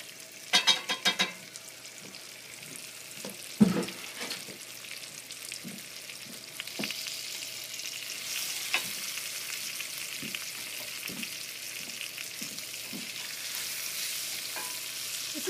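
Crab cakes fry in a pan with a continuous soft sizzle and crackle, broken by a few louder clinks and scrapes of a utensil early on, with no talking.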